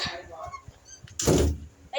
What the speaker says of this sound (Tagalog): Sarado ko pinto ah.